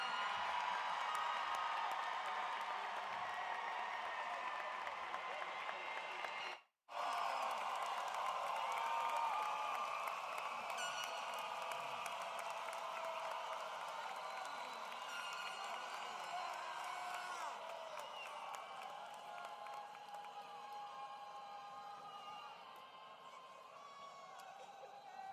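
An audience at the 2026 L.D. Bell High School graduation ceremony applauds and cheers the graduates in a steady, dense roar of clapping with whoops. It breaks off for a moment, then carries on loud and sustained.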